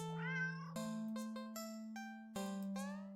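A cat meowing in a horror video game, one drawn-out meow followed by a series of bright chiming, bell-like electronic game tones at a steady pace, with no talking.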